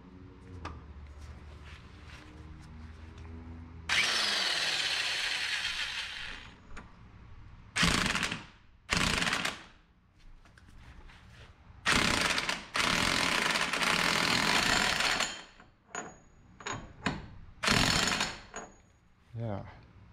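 A 2006 Jeep Commander's CV axle nut is run on with an impact wrench during a strut, shock and axle job: several loud, close rattling bursts of several seconds each, separated by pauses, with someone talking in between.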